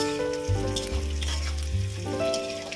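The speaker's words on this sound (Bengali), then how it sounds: "ভাজা ভাজা হয়ে গেছে।" Sliced onions frying in a pan give off a continuous nearby crackling sizzle with light stirring; no one speaks.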